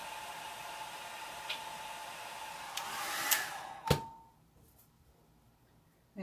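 Hair dryer blowing on alcohol ink on a tile, a loud and steady close-up whoosh with a faint whine in it. It shuts off abruptly with a click and leaves near silence.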